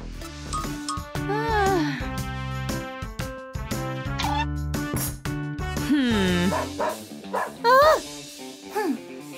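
A young dog yips and barks in short, high-pitched bursts, some whining and rising, mixed with voices.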